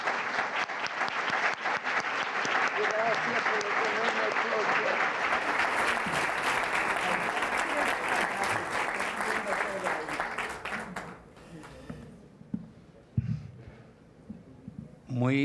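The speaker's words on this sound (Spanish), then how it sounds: "quiero primero pedirles un gran aplauso para ellos" A university lecture audience gives loud, sustained applause for about eleven seconds before it breaks off into scattered claps and room noise, with a voice beginning to speak at the end.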